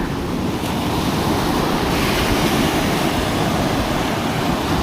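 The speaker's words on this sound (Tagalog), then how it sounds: "Ayan guys, may alon." Ocean surf washing in steadily at a beach under stormy, thundery skies, with a broad continuous roar of breaking waves and wind buffeting the microphone, no voices.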